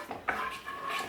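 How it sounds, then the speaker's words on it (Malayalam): Curd, chopped onion and masala being stirred together for a brinjal curry, a spoon scraping and clinking softly against a pot in a short, close, steady mixing stroke with no talking. "നന്നായിട്ട് ഇതുപോലെ ഒന്ന് മിക്സ് ചെയ്യാം"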